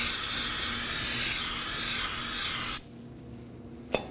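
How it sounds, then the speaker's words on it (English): Brake parts cleaner sprayed onto a wheel hub of a Kia Optima, a loud, close aerosol hiss continuing for nearly three seconds, then cutting off abruptly, followed by a quiet pause and a small clunk. "Using some brake parts cleaner, we're gonna go ahead and spray the surface to make sure that it's free of debris"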